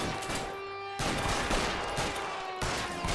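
Rapid bursts of gunfire in a 1940s Los Angeles crime shootout in L.A. Noire, loud and dense shots with brief gaps between volleys, no talking.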